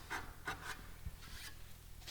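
A hand saw cuts wood right down to a marked baseline, giving a quiet, rhythmic rasp of back-and-forth strokes with no talking.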